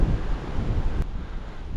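Steady wind on a Greek island buffets the microphone with a continuous low roar and rumble that never lets up.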